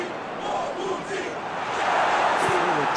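Stadium crowd noise swells in a video game football match, a loud, broad roar that rises toward the end beneath a commentator's voice.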